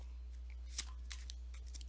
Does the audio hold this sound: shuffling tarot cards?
yes